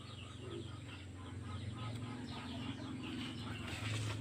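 A hen laying eggs in a backyard poultry setup clucks repeatedly up close, short rhythmic calls over steady farmyard background noise, with other fowl faintly audible.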